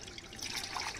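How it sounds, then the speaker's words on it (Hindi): Dirty water is poured off soaking wheat grains while the soil is washed out, making a brief splashing trickle that grows slightly louder, close by and with no talking. "इसको 2-3 पानी से, ये पानी वाला ऐसे निकाल दूंगी मैं"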